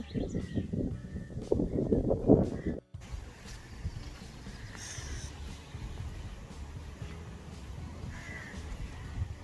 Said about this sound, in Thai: ได้ยินเสียง เสียง นก เสียงกา